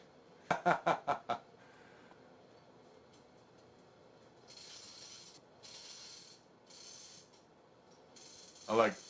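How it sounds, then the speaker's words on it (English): A chain hoist ratchets in a workshop, with five quick, close clacks at the start, then a soft rattling chain and distant rumbles, and a final louder clunk at the end. Nobody talks. "I want to do more projects that require a chain hoist."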